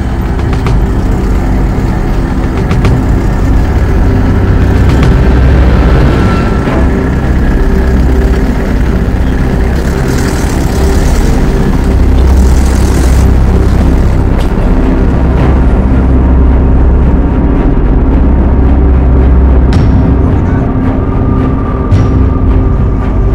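An old Mahindra 4x4 jeep ploughs through slippery mud off-road with its tyres slipping, its engine droning loudly and continuously, rising and falling slightly with no voices over it.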